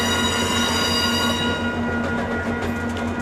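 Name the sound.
Via Rail passenger train number 88 passing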